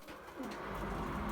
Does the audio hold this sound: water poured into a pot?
no